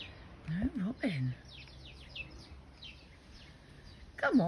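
Sparrows and other small garden birds chirp at a woodland garden feeder in short, faint bursts with quiet gaps between them. A person talks softly in between.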